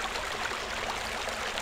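Water flows through a flooded level of Thief: The Dark Project as a faint, steady rushing hiss that never pauses.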